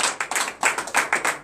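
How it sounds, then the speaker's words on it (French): A congregation at a morning prayer service claps in a quick, uneven rhythm, about a dozen close, sharp claps over a brief moment with no talking. "Donnez de vive acclamation au Seigneur"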